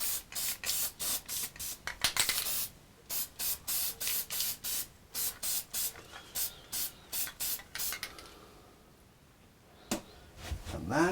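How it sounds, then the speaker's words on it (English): A spray can coats a wooden sign layout template in a quick series of short, sharp hissing bursts, a dozen or more in a steady rhythm, then pauses before a couple of final sprays. "I'm gonna spray this little layout template"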